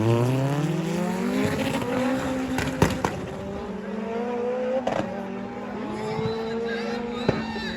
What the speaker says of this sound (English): So I'm gonna launch a car down now.